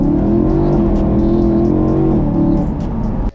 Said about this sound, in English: That car is so fast and it sounds so sick as well.